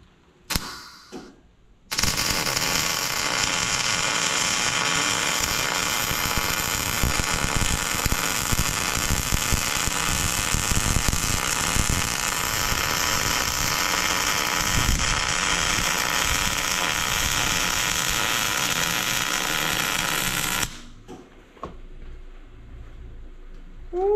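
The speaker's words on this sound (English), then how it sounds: "That's how we weld." Steady welding crackle and buzz runs for about nineteen seconds during work on a Gandy air seeder. It starts and stops abruptly, with faint handling noises before and after and no talking.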